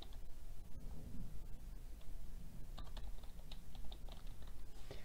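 Fingers type a new folder name on a computer keyboard, a steady run of soft, close key clicks with a few sharper taps, heard alone at low level.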